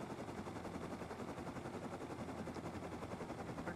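Rapid automatic gunfire from the online survival game Rust rattles in a dense, continuous burst. It is faint and distant, with no voices over it.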